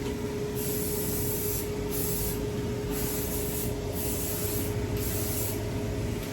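Green spray paint hisses onto a giant foam tulip in a steady, close-up stream, with a series of rhythmic pulses as the can is swept back and forth across the flower.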